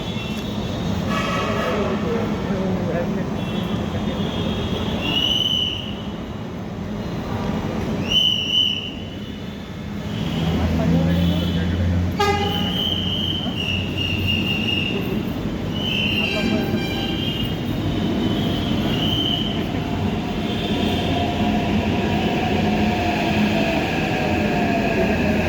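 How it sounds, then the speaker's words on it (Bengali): A metro train pulls into a station on the AIG Hospital to Secunderabad line with a sustained rumble, brake squeals and hissing, and short electronic tones over a crowded platform while people talk nearby. "এই ট্রেন চলে এসেছে, এখন আমরা আগে উঠবো।"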